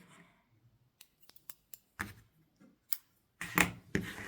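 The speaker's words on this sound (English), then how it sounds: "Now we need to snip the yarn" Scissors snip through yarn while finishing a crocheted border, giving a series of sharp, quiet clicks that start sparse and come closer together, ending in a few louder cuts.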